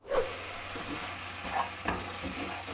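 Thick pineapple jam for Malaysian pineapple tarts bubbling and sizzling in a pan, with a steady close hiss and a few scraping stirs, no voices.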